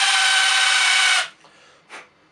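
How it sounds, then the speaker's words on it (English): Power drill spinning a countersink bit to ream out the primer pocket of a .223 rifle case, a steady close whir for just over a second before cutting off, then a faint brief rattle. "I'm just using a countersink drill bit in a drill here, and we're just going to ream that out for a couple of seconds"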